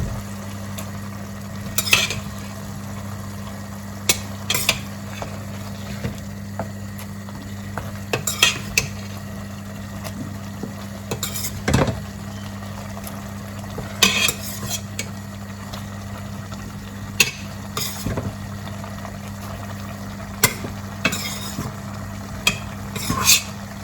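Beans stirred into a sizzling sauce in a pot, giving a quiet steady sizzle under a low hum, with repeated scraping and clinking of a spoon against the pan.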